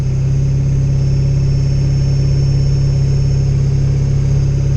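Steady engine drone from inside a 7.3 Powerstroke diesel truck with a manual valve body 4R100 transmission, a loud continuous low hum with a faint high whine and no clear gear change within the few seconds.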